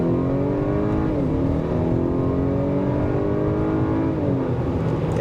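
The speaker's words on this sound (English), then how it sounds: "Check out this acceleration one more time." A 2023 Acura RDX A-Spec Advance SUV accelerates hard from a stop, its engine note climbing steadily through the gears with a brief shift dip midway, loud and continuous with no talking.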